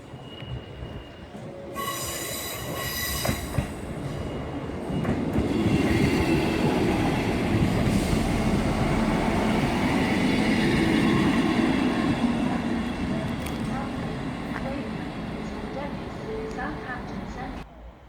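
A Class 158 diesel train rolls into a station, wheels squealing and rails rumbling as it slows, with people talking over the steady noise.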